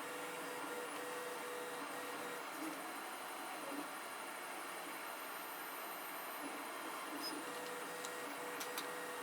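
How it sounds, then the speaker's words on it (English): A steady mechanical whir and hiss of a 3D printer running continuously, printing PLA at 0.3 mm layer heights, with faint ticks and small stepping sounds, fairly quiet and without talk. "This is PLA printing."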